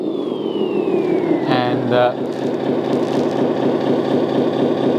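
A LESU RC truck sound system plays a simulated engine idle, a steady, close mechanical rumble throughout, briefly overlapped by a short spoken word.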